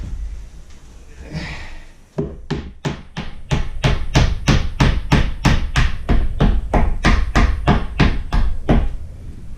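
Steady, rapid knocking as something is struck repeatedly with a block of wood, about two blows per second, close and loud, after a brief scrape.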